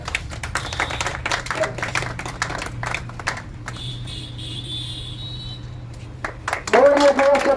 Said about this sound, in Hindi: ताली बजा दीजिए थोड़ा।